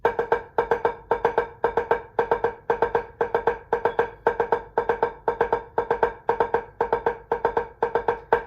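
Crisp drum taps repeat in an even, looping pattern of short grouped strokes, played close and alone without any talking.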